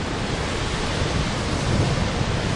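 Salto Grande waterfall in Torres del Paine roaring as a dense, continuous wash of falling water, loud and close with wind buffeting mixed in and no other sounds.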